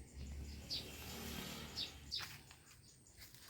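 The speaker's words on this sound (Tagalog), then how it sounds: "Daming ibon dito, eh." Birds gather in a sugar-apple tree, giving a few short, high chirps and calls at a distance over a quiet outdoor hum, scattered irregularly rather than in a continuous chorus.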